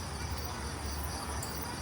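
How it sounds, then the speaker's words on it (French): Grasshoppers chirp outdoors in Grozny, a soft, continuous insect buzz spread around the scene at low volume. "il y a des sauterelles partout"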